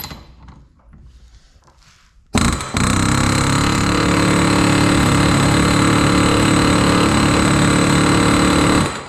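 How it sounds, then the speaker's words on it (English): A loud, continuous mechanical roar starts suddenly after a quiet opening of a couple of seconds, like a pneumatic air hammer running steadily and close by, working on a front wheel bearing of a 2006–2011 Kia Rio. "Let's see if we can get the air hammer on it"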